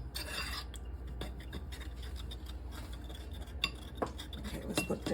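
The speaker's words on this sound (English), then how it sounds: "Let's mix this up." A utensil scraping and clinking against a bowl while honey and Dijon mustard are mixed together, soft and close with irregular light taps over a low background hum.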